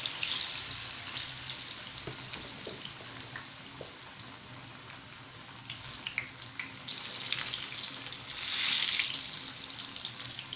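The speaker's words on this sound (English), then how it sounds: "Now it's time for me to put the plantain inside the frying pan." Plantain sizzles and crackles steadily in hot oil in a frying pan, with occasional scrapes and stirring, the frying swelling louder toward the end.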